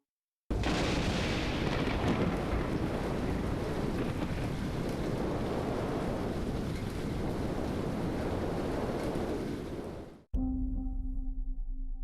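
Hurricane Florence lashing the North Carolina coast near Swansboro, a loud unbroken roar of wind and heavy rain buffeting the microphone for about ten seconds, then cutting off to a quiet hum.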